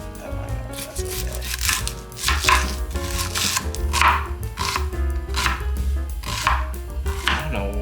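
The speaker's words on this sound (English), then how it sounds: "Alright, next up we're gonna cut our onions." Onions are diced with a knife on a cutting board, giving rapid, rhythmic chops in quick bursts, close and loud, while a person talks over the cutting.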